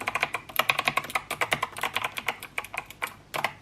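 Rapid, uneven keystrokes on an 8BitDo retro-style mechanical keyboard, clicking loudly and close up with no talking.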